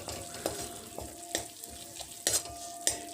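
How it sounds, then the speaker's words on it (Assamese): Naharu (garlic) chutney with sugar frying on low heat in a pan, with a soft steady sizzle under regular scraping stir strokes about every half second, close and alone with no voices. "তেতিয়ালৈকে এইখিনি মই কম জুইত ভাজি থাকিম"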